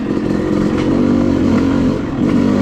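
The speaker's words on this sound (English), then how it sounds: "And the bike just rolls." Off-road motorcycle rolling down a rocky mountain trail, a close, loud, steady engine rumble with rattling clatter and scraping from the rough ground underneath.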